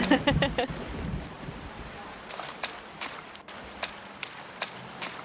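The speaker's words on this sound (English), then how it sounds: "Suddenly it's raining." Rain falls in the indie video game A Space for the Unbound, a soft steady patter with scattered sharper drop taps, after a louder burst at the start.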